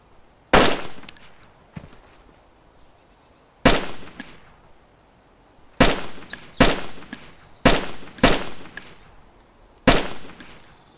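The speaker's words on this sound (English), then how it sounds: "I pulled out the AK and I put down a bit of fire just to make them nervous" AK rifle shots fired in the video game DayZ, loud and close: single cracks and short bursts spaced irregularly across several seconds, each with a sharp onset and brief decaying echo, no talking.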